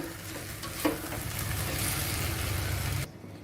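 Rice and moong dal frying in a pan, a steady close sizzle with stirring scrapes and one brief clatter, cutting off abruptly near the end.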